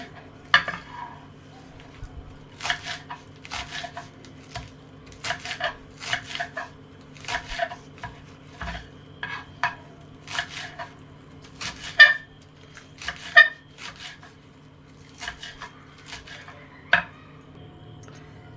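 A knife chops spring onion greens finely on a board with quick bursts of crisp, close taps separated by short pauses, repeating irregularly under a low steady background hum.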